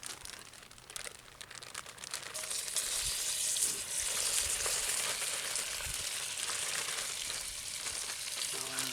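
Venison pieces frying in oil heated almost to its smoke point inside a Dutch oven at a state park campsite: a steady, bright sizzle and crackle that swells after a few seconds and holds, close and continuous.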